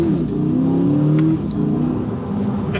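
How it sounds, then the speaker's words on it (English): A 2020 Chevrolet Corvette C8 V8 engine revs hard and loud, its deep growl rising and falling briefly, close and without voices. "Oh yes, V8 rips."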